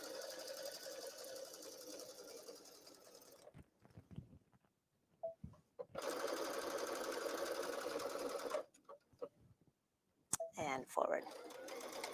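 A sewing machine with a whole pair of jeans slid onto it stitches trim along the edge in bursts of rapid mechanical whirring, stopping and starting several times, with a person speaking briefly in the pauses.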